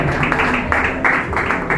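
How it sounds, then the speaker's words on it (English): Sustained applause fills the hall after a debater's speech, many hands beating in a close, loud, unbroken wash with slight swells, and no voice standing out. "Please, another round of applause for her."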